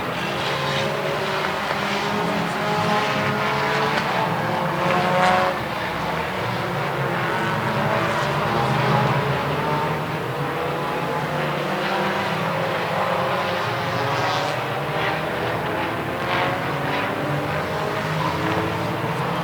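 Race cars roar around an oval track during a late-laps battle at the Daytomah 200, a continuous loud engine drone with overlapping passes and no talk.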